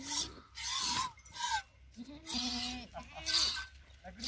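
A goat in the Thar desert near Suratgarh, Rajasthan, bleats in several short, close calls, with scraping rasps and faint voices in between.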